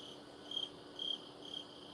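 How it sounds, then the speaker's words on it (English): Crickets chirp in a quiet setting, three short shrill bursts spaced about half a second apart over a faint steady background trill, soft and somewhat distant. "Can you hear the crickets?"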